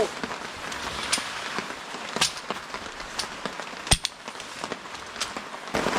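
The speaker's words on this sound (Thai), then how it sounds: "ฝนตกอีกแล้ว" Rain patters on a tent at a streamside campsite, soft steady hiss with scattered sharper drops and taps close by.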